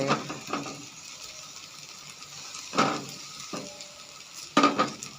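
Pork, mushrooms and holy basil stir-fried with rice noodles in a pan, soft steady sizzling broken by a few sharp scrapes and clinks of a utensil against the pan.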